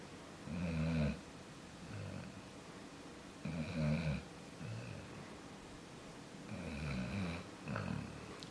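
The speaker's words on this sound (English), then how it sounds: "Hello, snoring dog." A dog snores in a slow, regular rhythm, three deep rattling breaths spaced a few seconds apart, close and fairly quiet in a still room.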